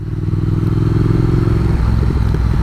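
A motorcycle engine rumbles steadily at low revs while riding along, a continuous close, throaty drone with no talking.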